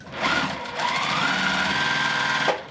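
A sewing machine stitches quilt pieces in one steady, continuous mechanical whir that runs nearly three seconds close by, with no talk over it.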